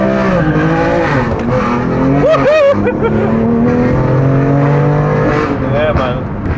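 A BMW M2 Competition drives hard, its engine revving and rising in pitch with brief tire squeal, loud and close inside the cabin while people talk over it.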